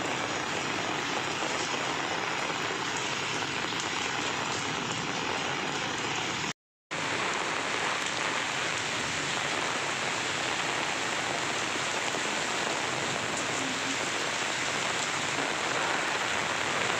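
Heavy rain pours down steadily in a windy storm, a dense, even wash of drops striking surfaces close by, with one brief cut to silence partway through.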